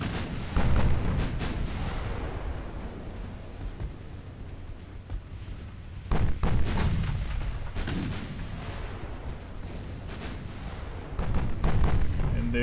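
Naval guns fire in the warship strategy game Ultimate Admiral Dreadnoughts, with three heavy booming salvos spaced several seconds apart, each rolling into a long rumbling decay over continuous low battle ambience.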